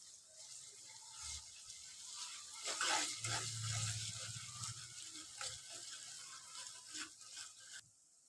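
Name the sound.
frying ginger paste, turmeric and onions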